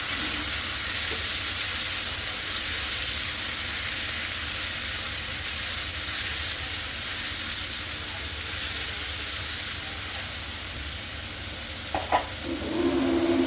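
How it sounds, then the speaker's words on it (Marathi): Finely chopped onions sizzle steadily in hot oil in a pan, a continuous close hiss with faint stirring, and a brief clatter near the end. "हे कांदे मी बारीक चिरून घेतलेले त्याच्यामध्ये घालून घेते आता छान परतून घेऊया"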